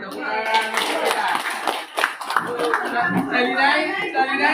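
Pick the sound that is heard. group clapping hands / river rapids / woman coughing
group clapping hands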